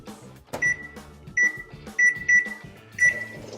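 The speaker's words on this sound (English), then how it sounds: "put your dry sponge in the microwave for 2 minutes." A microwave oven runs with a dry kitchen sponge inside, its low hum steady beneath a handful of sharp, clear beeps that come in short bursts, fairly close and loud.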